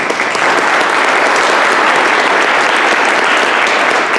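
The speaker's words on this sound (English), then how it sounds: "let's give them a round of applause" A crowd at a community input meeting bursts into steady, dense applause that holds at full strength from start to finish, with no voices standing out above the clapping.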